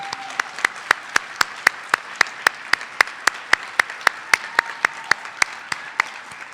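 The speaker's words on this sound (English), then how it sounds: "Let's give a big round of applause for all of our award winners this evening." A single person claps at an awards ceremony honoring winners, loud sharp hand claps at a steady, even rhythm of roughly three per second, close to the listener and alone without speech.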